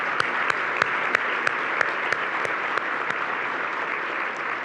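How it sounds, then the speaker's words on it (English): Steady audience applause fills a room at the 2018 Bay County Chamber of Commerce dinner, a dense even wash of clapping with a few sharper claps standing out, continuous throughout and with no talk over it. "Let's give them a big round of applause."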